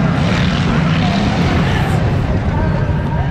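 A tractor engine runs steadily at a western pleasure horse show, a continuous low, loud rumble that fills the whole stretch without a break.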